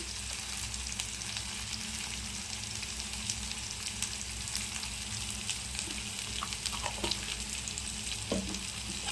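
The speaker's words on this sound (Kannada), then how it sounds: "ಇದು ಒಂದು ಸ್ವಲ್ಪ ಹಸಿ ವಾಸನೆ ಹೋಗೋವರೆಗೂ ಈ ಥರ ಫ್ರೈ ಮಾಡ್ಕೋಬೇಕು" Ginger garlic paste fries in a pan over a low flame, giving a continuous soft sizzle with a low hum beneath and a few faint scrapes near the end, all without voices.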